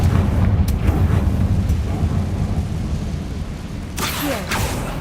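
A Confringo blast spell cast in the Hogwarts Legacy video game, heard as a dense rumbling, booming roar that swells loud and sustained, with a sharp bright crackle bursting in near the end.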